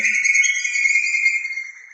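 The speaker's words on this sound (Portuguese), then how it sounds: "Os pássaros estão se manifestando" Birds call with sustained, clear whistled chirps, a bright tonal song that rings out loudly and alone before fading slightly at the end.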